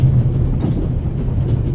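Inside a moving train in the game The Raven - Legacy of a Master Thief, a loud, steady low rumble of rolling carriages carries faint rhythmic wheel clatter, with no speech.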